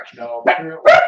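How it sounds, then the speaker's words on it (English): Dogs bark indoors during a live vintage auction: a few close, sharp barks and yips in quick succession, overlapping with a person talking. "Sorry about the dogs. They're part of the clan tonight."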